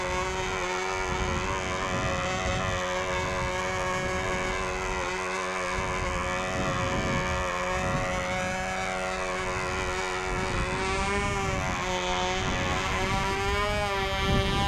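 A Sig Skyray 35 model airplane engine runs loud and steady for the whole stretch, a high buzzing drone whose pitch wavers slightly as the throttle shifts.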